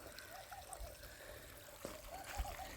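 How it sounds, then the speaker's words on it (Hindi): Water streams and trickles steadily while a woman waters plants outdoors around 6 in the evening, a faint, soft splashing with small bubbly gurgles and a few louder splats. "मैं अठे पौधा में पानी देने लाग रही हूँ"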